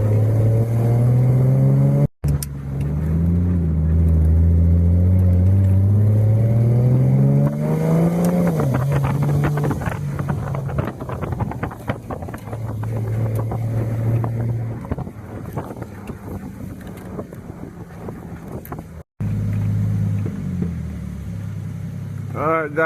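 A car without traction control accelerates hard. The engine drone climbs in pitch and drops back several times as it goes through the gears, loud and close, under heavy wind noise.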